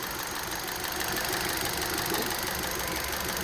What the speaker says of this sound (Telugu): ఇంజిన్ చాలా స్మూత్గా ఉంది సార్.